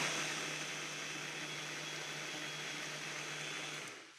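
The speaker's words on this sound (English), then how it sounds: "I'm going to actually make it a little bit more blended" A kitchen blender whirs steadily as it purees homemade tomato basil soup, a loud continuous motor drone with a constant hum that runs unbroken for about four seconds before spinning down.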